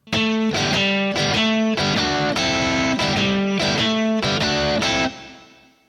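Distorted electric guitar through a Kemper Profiler plays a riff with lush reverb, rhythmic chugging chords repeating steadily, loud and up close, the last notes ringing out into a fading tail.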